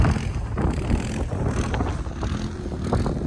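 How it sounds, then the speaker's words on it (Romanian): Strong wind blows on a mountain near a gondola lift station, a loud, constant buffeting rumble battering the microphone throughout, with no one speaking. "bate vântul tare"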